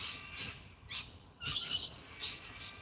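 Cockatoos call outdoors in a series of harsh, raspy screeches, about five short bursts spaced unevenly, faint and somewhat distant.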